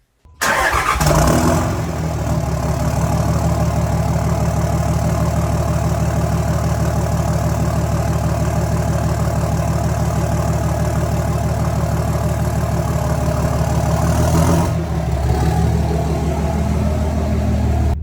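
A 5.9 Cummins diesel engine in a 3rd-gen Dodge Ram truck with a 5-inch stainless straight pipe exhaust cranks and catches, then settles into a loud, steady, rumbling idle that holds without letup.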